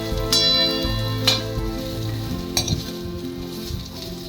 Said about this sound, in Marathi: आता हे मिश्रण छान आपल्याला 1 ते 2 मिनटं परतून घ्यायचं आहे.